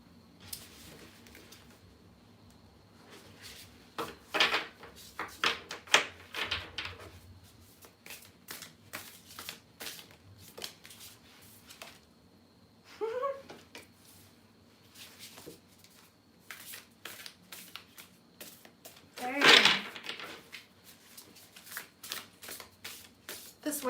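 Playing cards are handled outdoors in a breeze, with bursts of riffling and flicking, quiet and close, separated by pauses and a few brief vocal sounds.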